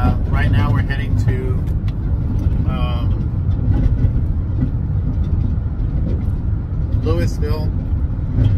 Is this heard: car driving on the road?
yes